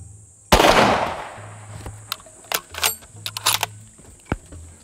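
A single loud big-caliber rifle shot outdoors during a hunt in Africa, a sharp crack with a decaying roar, followed by several quick metallic clicks and rattles from handling the rifle, with no talking.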